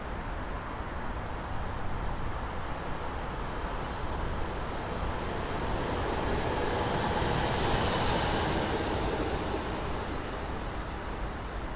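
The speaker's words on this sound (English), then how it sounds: "683 and 411 are seen working Free Juliet 44 en route to Hunslet Yard" Locomotives 683 and 411 run with a railhead treatment train, giving a steady, broadband rumble and hiss that stays loud throughout and swells slightly toward the end, with no voices.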